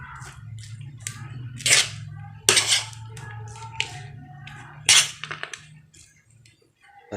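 Chicken sisig is stirred in a pan, with scrapes and metallic clinks of a utensil against the pan coming in a few bursts over a low background hum, close and fairly loud, with no talking.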